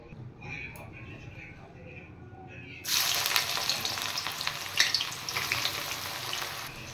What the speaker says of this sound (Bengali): এবার পেঁয়াজগুলো ভেজে নেব আমি।